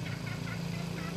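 Jungle fowl kept by a villager near the Sembalun savanna hills, calling while being fed: a steady run of close gobbling, throaty calls over a low droning hum, with no talking.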